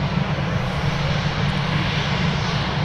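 An airliner's engines drone steadily and loudly as it taxis out at Manchester Airport, a constant close rumble with no speech over it.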